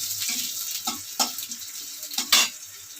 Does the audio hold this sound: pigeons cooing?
no